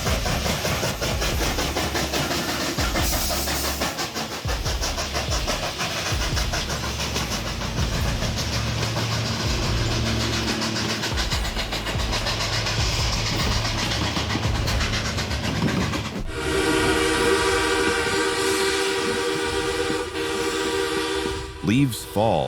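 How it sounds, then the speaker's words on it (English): Steam locomotive 1309 in a snowy winter setting, its engine chugging steadily before a loud, sustained horn sounds near the end, close and dominant. "A six-blast horn sequence recreated as a futuristic time signal from the 20-teens."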